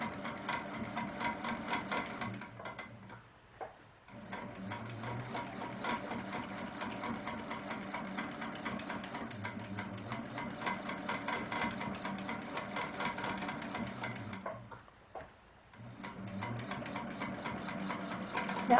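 Sewing machine stitching in the ditch on a quilt, a steady close mechanical whir with rapid rhythmic needle ticking that runs for long stretches, pausing briefly twice before starting up again.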